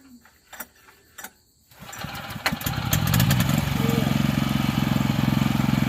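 A vehicle engine is cranked after a few clicks, catches and settles into a loud, steady close idle with a fast, even chugging rhythm, and no voices are heard.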